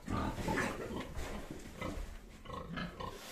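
Soft, low grunts from piglets huddled in an unlit shed, several short snuffling bursts close by in a quiet space, irregular and overlapping.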